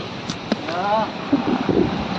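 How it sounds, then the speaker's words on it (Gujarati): Storm wind blasts across a village in a steady, rushing roar that buffets the microphone, while someone speaks briefly over the windy din. "વાવાઝોડા જેવું છે આ તો ઘરે મારે ના નીકળે આવા પવન તો"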